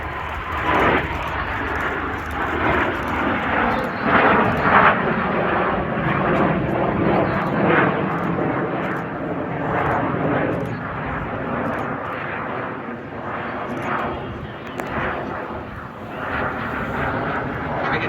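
A BAC Strikemaster jet roars past in a flying display at RAF Cosford with a broad, sustained engine rumble that swells and fades gradually, loud throughout.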